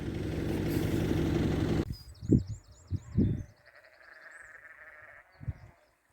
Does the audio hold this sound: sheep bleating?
yes